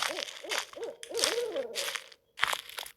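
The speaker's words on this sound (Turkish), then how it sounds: "İlk defa baykuş sesi geldi." An owl hoots repeatedly in Slender: The Eight Pages, a series of close, rhythmic calls mixed with crunching, rustling footsteps, pausing briefly near the end; no talk.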